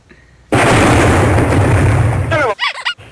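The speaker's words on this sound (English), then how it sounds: "Firing main cannon." A tank's main cannon fires in the Halo-based Red vs Blue series: a sudden loud blast that sustains as a thick roaring boom for about two seconds, followed by a brief voice.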